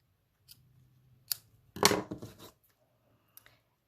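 Scissors snip paper for a seashell-themed handmade card, with a few quiet close snips followed by one longer, louder cut and a final light snip, no talking.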